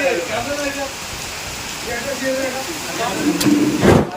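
Steady rain hisses in the background while people talk nearby, with a louder splash or rattle near the end.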